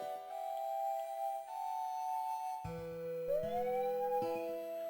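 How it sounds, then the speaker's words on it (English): A warbling, siren-like electronic tone from the Golden Sun: Dark Dawn video game, shifting pitch in steps and swooping upward, with layered game music tones joining partway through, heard alone. "Why does it sound like a weird siren or something?"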